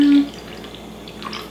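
Apple cider vinegar splashed from a bottle into an Instant Pot while making bone broth, a soft watery pouring and trickling sound after a brief louder start, steady and close.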